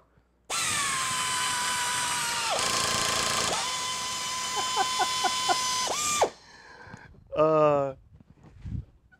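A motorized tapping arm drives a 5/16 tap into a hole with a steady, loud whirring motor whine, then stops and reverses briefly. A short clutch-like ratcheting burst follows near the end, with speech audible around it.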